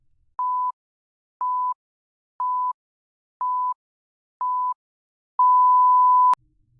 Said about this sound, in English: Countdown timer if you want to follow along on YouTube